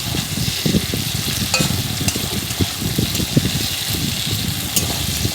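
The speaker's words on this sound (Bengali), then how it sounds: "ভালোভাবে এটা নাড়তে থাকবো।" Onion, split green chilies and chopped tomato fry in a pan under constant stirring, giving rhythmic scraping and clacking strokes over a steady close sizzle.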